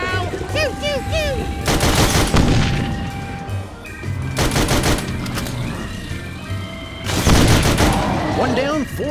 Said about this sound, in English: Hey, big guy! I'm shooting you now!